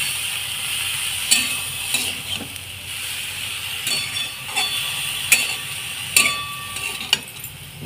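Chicken for momo filling fries in a pan with steady sizzling and crackling, and the spoon scrapes and clatters a few times as the pieces are stirred.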